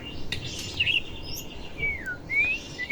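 A white-rumped shama sings clear whistled phrases with rising and falling slides over steady background noise, moderately close, with a few sharp chirps between.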